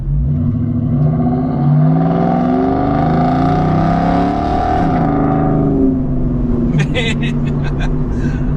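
A Ford Mustang with a Coyote V8 swap and an H-pipe exhaust drones loudly and steadily nearby, holding a deep rumble with rising and falling revs, while someone talks over it near the end.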